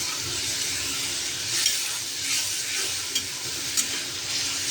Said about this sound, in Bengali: চিংড়িটাকে আমি দুবারে ভেজে নেব